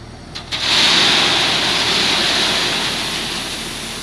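Crushed stone pours from a loader bucket into a trailer hitched to a 2021 Chevy Duramax 3.0 pickup, a sudden onset settling into a loud, steady hissing rush that fades slightly toward the end.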